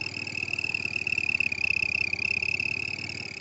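A small sound device fitted to a bicycle mimics a car engine idling, a steady buzzing putter with a high electronic whine layered on top, even and continuous throughout.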